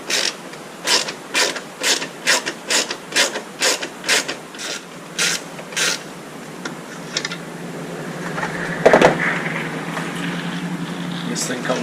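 A T20 Torx screwdriver backs screws out of a Jeep Grand Cherokee high-mount stop lamp, giving a run of about a dozen evenly spaced ratchet-like clicks up close, followed by softer fumbling and a brief clunk.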